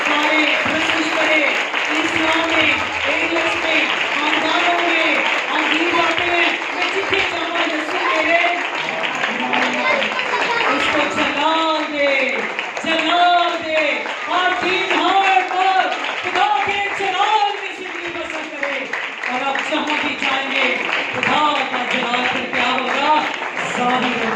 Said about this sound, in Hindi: दोनों हाथों को उठाकर जोरदार तालियां बजाएं।